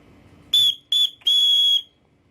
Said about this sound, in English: This paracord bracelet does come bundled also with a little whistle, which is pretty loud for what it is.